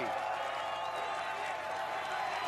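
Crowd at an American Ninja Warrior USA vs Japan event roaring and cheering as a competitor reaches the flying bar, a dense continuous wash of noise at a distance.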